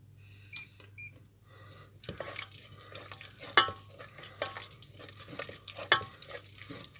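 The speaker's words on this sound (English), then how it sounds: "you've got to keep on stirring at this stage because it does burn the bottom" A spoon stirs milk into a fish pie sauce in a pan over heat, making irregular scraping and clinking knocks with a soft bubbling under a faint low hum, moderately quiet with no talk.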